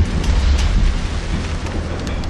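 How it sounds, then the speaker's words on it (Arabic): A cartoon storm at sea rumbles with deep, loud thunder under a dense, steady roar of rain, with no voices. "وكأنها عاصفة."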